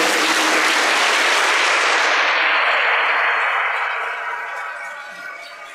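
A church congregation at a Hiroshima priestly ordination Mass breaks into loud, dense applause for the families of the newly ordained priests; the clapping holds strong for several seconds, then fades away to quiet.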